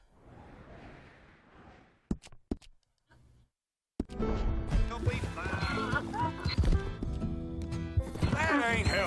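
A horse in the video game Red Dead Redemption 2 makes a few sharp hoof clops and snorts, then a loud stretch of whinnying and game sound follows, with a voice talking over parts of it.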